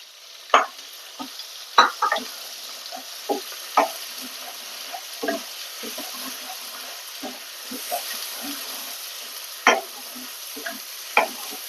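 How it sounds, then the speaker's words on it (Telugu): Spice paste frying in oil for an Andhra-style capsicum curry, with a spoon scraping and stirring through it in a series of sharp, irregular clicks over a soft, steady sizzle, close by. "పేస్ట్ కూడా బాగా ఆయిల్లో వేగాలండి"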